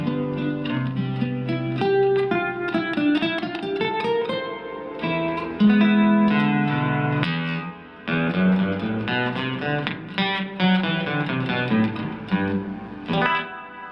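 Acoustic guitar played through a Fender Acoustasonic amp, strummed chords and picked notes given a shimmering chorus effect with no reverb; continuous and close, with no talking.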